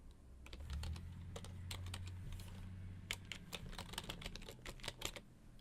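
A computer keyboard typed on at a steady, uneven rhythm of close, crisp key clicks, with a low hum underneath. There is no talking.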